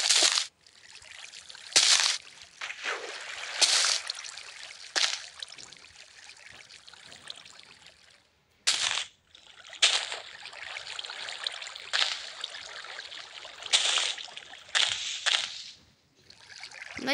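Flowing water in Minecraft inside an ocean monument, a steady rushing wash punctuated by repeated louder splashy bursts over several seconds, fairly quiet overall.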